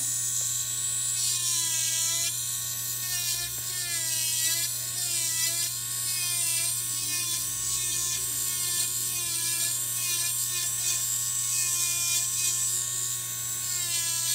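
Rotary carbide burr grinding down a big toenail during foot care, a steady high-pitched whine with a constant low hum beneath it, continuous and close throughout.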